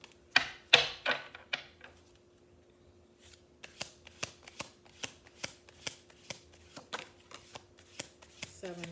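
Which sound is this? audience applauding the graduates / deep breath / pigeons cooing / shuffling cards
shuffling cards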